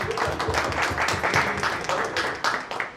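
Lively audience applause at a Guru Purnima gathering of a karaoke class, dense rhythmic hand clapping from a nearby crowd, strong and continuous with sharp individual claps standing out.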